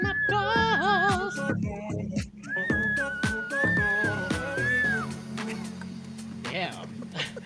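A singer belts a high, wavering whistle-register note in a drag competition show setting, sustained over backing music and a busy mix.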